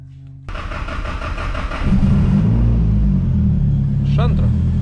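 A car engine cranks and catches, starting with a low rumble that settles into a steady idle, with a short whine near the end; people talk nearby in a cold winter setting.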